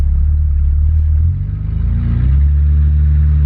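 A Toyota Cressida, styled as a bosozoku build, runs just after start-up, its engine rumbling loudly and close by, dipping briefly and then settling back into a steady idle.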